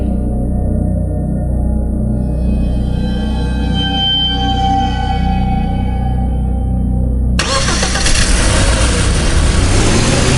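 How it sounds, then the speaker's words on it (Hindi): A car drives away along a dark forest road, with a steady engine drone that rises slightly as it pulls off, then gives way to a loud, broad roar of rushing noise. "सैम ने अपनी कार चलाई और जंगल के उस अंधेरे रास्ते से दूर निकल गया"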